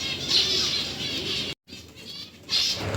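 Birds flutter and flap their wings in bursts, with soft cooing mixed in, pausing briefly before another round of flapping.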